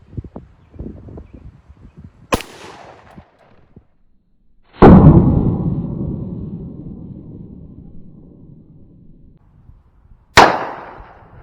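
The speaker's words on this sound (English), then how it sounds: "40 caliber, shooting a hollow point." A .40 caliber hollow point round fired at a dumbbell gives a loud sharp gunshot that booms and decays over several seconds, preceded by a smaller crack and handling noise, and followed by another sharp report.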